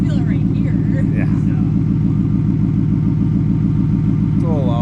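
2025 Ford F-150 with an SPD Y-pipe and Speed Engineering cat-back exhaust, idling close by with a loud, steady pulsing rumble throughout while people talk faintly over it.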